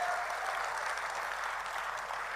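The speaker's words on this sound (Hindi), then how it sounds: "तालियां आपकी पीछे तक की उठनी चाहिए।" An audience applauds at a Hindi comic poetry gathering (kavi sammelan), a steady, even wash of clapping that sounds somewhat distant and fairly soft throughout.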